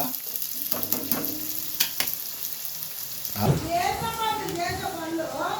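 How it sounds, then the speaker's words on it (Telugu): Chopped cabbage frying in a pan for fried rice, a steady sizzle with scraping stir strokes, heard under a voice speaking throughout. "క్యాబేజీ వేసి కలిపుకోవాలి. కొద్దిగా క్యాబేజీ వేగాక"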